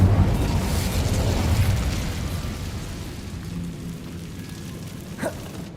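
Incendio, a fire spell in the video game Hogwarts Legacy, roars out as a long, rumbling burst of flame that slowly fades into a crackling, rain-like hiss, with a small sharp pop near the end.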